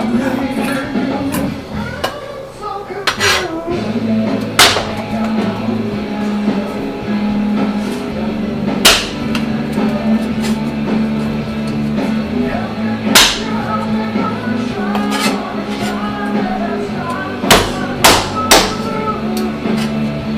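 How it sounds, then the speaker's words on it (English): Several sharp smacks land at irregular intervals over a steady low hum as garlic cloves are mashed with a flat blade on a board. "then you can just quickly mash it up"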